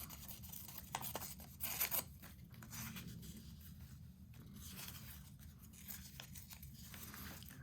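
Scissors cut down a gel print paper page, with faint, close snips and rustling paper handling at a quiet level, a few sharper crisp cuts standing out early.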